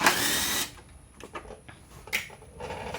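A brief power-tool whir loosens a 10mm bolt on the headlight housing of a 2008-2014 Kia Soul, followed by light metallic clicks and clatter, quiet and close.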